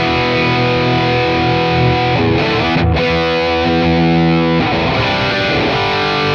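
An electric guitar played through a HOD Klon KTR overdrive pedal rings out loud and continuous, with driven, harmonically rich chords sustaining and shifting across a few strums, no voices.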